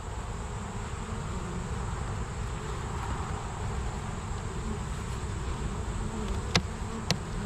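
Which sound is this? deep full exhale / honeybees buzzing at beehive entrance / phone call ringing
honeybees buzzing at beehive entrance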